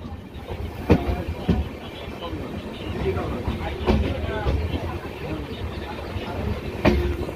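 A train on the Sealdah line runs close past trees and houses, with a steady rumble and sharp rhythmic wheel clacks over rail joints; a person talks over it.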